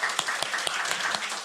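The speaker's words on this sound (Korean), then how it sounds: "우리 열렬한 환영의 박수 한번 부탁드립니다." A church congregation applauds to welcome new first-year middle school members at a Sunday service, a brief steady patter of many hands clapping.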